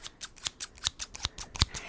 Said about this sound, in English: They're like these crazy stacked scissors, and a lot of people say they're for herbs